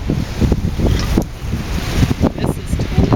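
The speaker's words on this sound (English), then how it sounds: "it's so windy" Strong wind buffeting the microphone, a constant low roar with gusty surges and rumbling thumps throughout.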